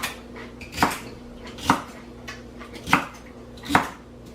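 A knife chops celery on a board for a seafood chowder, giving four sharp, spaced knocks with faint clinks of kitchenware between them, close and clear with no voices.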